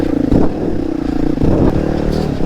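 A two-stroke dirt bike engine revs steadily and close by on a rocky trail, with a rough clattering tone and a few throttle blips, loud and continuous without talk.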